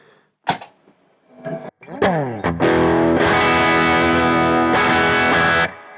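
Electric guitar on the overdrive channel of an amp with a light overdrive tone: a few picked notes and bends, then sustained ringing chords, loud and close.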